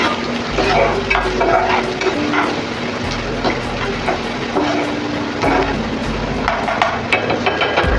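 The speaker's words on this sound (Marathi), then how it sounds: "आता कांदा छान आपण लाल होईपर्यंत परतून घेऊया" Finely chopped onion fries in oil in a pan, a loud, steady sizzle close up, broken by scrapes and knocks of a stirring spoon, with no talk.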